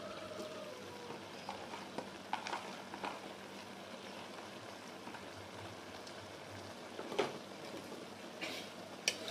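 Mustard greens and bean sprouts stir-fry quietly in a pan, a soft steady sizzle broken by a few light scraping and clinking stirs, faint and close, with no talk.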